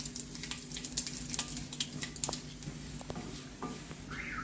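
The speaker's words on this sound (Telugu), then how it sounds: "తాలింపును ఒకసారి ఇలా కలుపుదాము, మినపప్పు వేగేదాకా." Urad dal, dried chilli pieces and curry leaves frying in hot oil for a tempering, giving a steady soft sizzle with faint stirring scrapes and crackles throughout, no talking.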